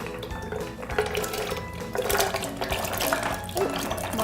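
Raw almonds tip into a blender jar already holding water, giving a steady rushing, rattling pour that runs for several seconds at close range.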